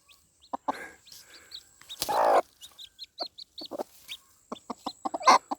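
A hen clucks in short, close bursts beside her newly hatched chick in a bushy thicket, with a brief louder scuffle midway and quick repeated clucks toward the end.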